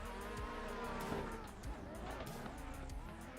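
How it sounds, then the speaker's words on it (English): A Toyota Supra drifting while chasing another car, its engine droning steadily with squealing tires and a passing rush, heard at moderate distance through a continuous wash of motor noise. "This is chasing Brandon in the Supra"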